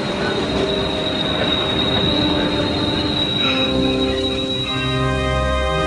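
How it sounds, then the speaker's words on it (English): A funeral train rolling along the tracks across America, with loud sustained wheel squeal and metallic ringing tones over a steady rumble of railcars, close and continuous throughout. "his funeral train slowly crossed America"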